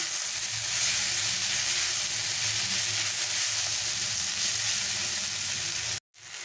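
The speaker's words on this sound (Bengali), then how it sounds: "তো কলমি শাক ভাজাটা আমার সম্পূর্ণ রেডি" Water spinach (kalmi shak) fries in a pan with a dense, even sizzling hiss that runs steadily close up and cuts off abruptly near the end, with no one speaking.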